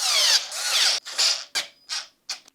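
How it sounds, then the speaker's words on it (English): A power tool screws the four handlebar stem bolts back in on a 1500W Helokeep ME-L ebike, in several short whirring bursts that grow briefer, loud and close, with no talk. "We'll put this back on and screw these 4 bolts back in."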